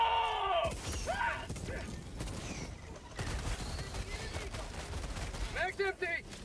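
Heavy gunfire and explosive blasts in Helldivers 2 on PC, dense and continuous throughout, with sharp impacts, crackling debris and chaotic battle noise, while a voice speaks briefly near the end.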